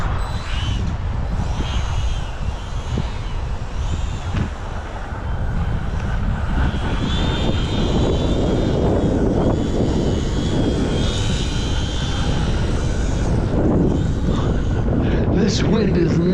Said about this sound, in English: All right, it's crazy windy, so let's fly a ultra micro.